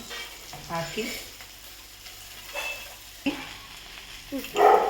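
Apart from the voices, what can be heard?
okra frying and sizzling in pan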